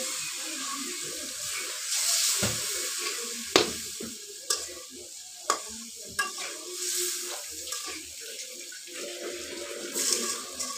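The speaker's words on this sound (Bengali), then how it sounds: "এবার মশলার সাথে মাছগুলো অল্প একটু সময় ভেজে নেব।" Small river fish frying with spices in oil in a pan, a steady close sizzle with stirring scrapes and clinks of a utensil, plus occasional running water in the background.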